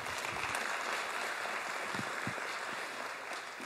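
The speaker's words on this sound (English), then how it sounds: "Give Lucy a round of applause." A church congregation claps for Lucy, a faint, distant wash of applause that holds steady for a few seconds and then eases slightly.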